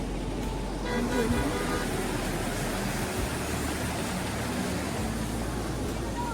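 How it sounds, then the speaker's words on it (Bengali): A waterfall cascades beside the road to Rishop in North Bengal, a dense, steady rushing roar that fills the whole scene evenly, with faint voices in the background. "এখান থেকে একটা কি সুন্দর ঝর্ণার মতন পড়েছে"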